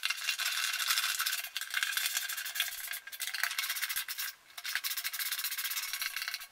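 Rubbing, rattling metal-on-metal work while tightening nuts that secure a go-kart shifter cable to the frame, close and steady, with brief pauses and no talk.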